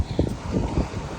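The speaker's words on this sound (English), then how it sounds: "Ooh, it is windy." Gusty wind outdoors on a neighborhood walk with a dog, buffeting the microphone in low, rumbling bursts for a brief moment.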